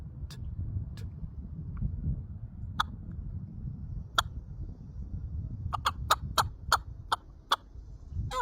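Sharp clucks popped on a Brute Tube latex turkey call, a few scattered single pops followed by a quick run of about eight close, crisp clucks over a low background rumble.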